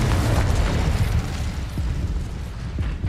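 Confringo spell blasts go off in the Hogwarts Legacy video game, booming bursts with a rumbling low end that hit in quick succession under a busy, continuous din of combat.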